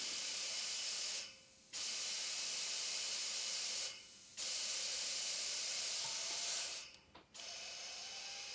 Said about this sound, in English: use my full-size shop air compressor and line. See how quickly we can get this to 30 psi